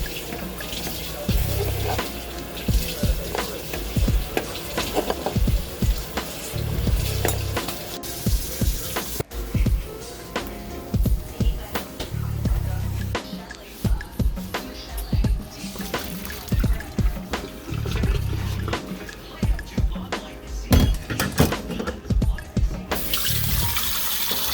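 Water from a kitchen tap splashes steadily into a pot of boiled eggs as the hot water is drained and cold water added, a continuous close rushing with rhythmic sloshes and clunks, with no talk over it.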